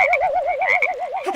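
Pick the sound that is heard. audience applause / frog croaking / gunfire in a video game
frog croaking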